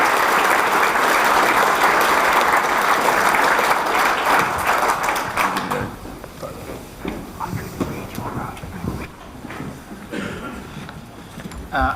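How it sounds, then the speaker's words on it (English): Conference audience applauding a panel at a leakage conference, loud sustained clapping that fades after about five seconds, followed by scattered claps and a speaking voice. "I think a round of applause for the panel."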